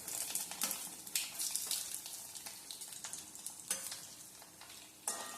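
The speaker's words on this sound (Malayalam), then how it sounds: "തേങ്ങാക്കൊത്തൊന്ന് ചെറുതായിട്ട് മൂത്ത് വരുന്നത് വരെ നമുക്ക് ഇളക്കി കൊടുക്കാം" Coconut slivers fry with popping mustard seeds in a pan for a clam thoran, a close bright sizzle broken by repeated scraping stirs at an uneven rhythm.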